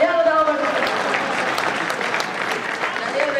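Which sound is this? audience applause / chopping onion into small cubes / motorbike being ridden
audience applause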